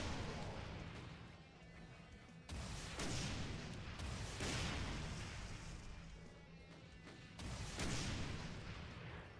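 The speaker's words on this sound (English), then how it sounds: "Let's go some rockets here." Rockets launched in the Doom video game, heard as a series of heavy booming blasts, each a sharp onset followed by a rumbling decay, spaced a couple of seconds apart and fairly loud with no talk.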